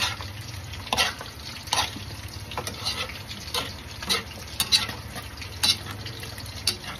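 A utensil stirring sautéed sponge gourd (patola) in a pan, with soft scraping taps at irregular intervals over a faint background hiss, close by and fairly quiet.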